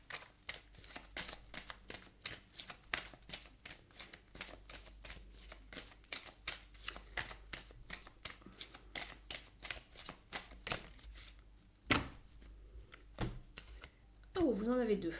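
Oracle cards shuffled briskly by hand, a fast run of crisp riffling flicks close up, ending with a few cards drawn and laid down, under quiet talk.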